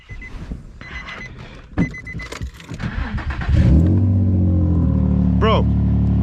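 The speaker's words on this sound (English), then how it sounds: "I just want to honestly turn on the car and just kind of see how she" A Nissan 350Z, after a P0300 misfire fix, is started up: clicks and chimes, then the engine cranks, catches and settles into a loud, steady, smooth idle, with a brief whistling tone over it.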